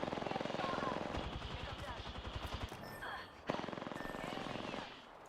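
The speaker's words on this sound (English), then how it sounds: "There's 2 teams shooting us" Rapid automatic gunfire from two enemy teams in a video game rattles in quick bursts, moderately distant and fairly quiet, with a short pause and a sharp crack partway through before the firing resumes.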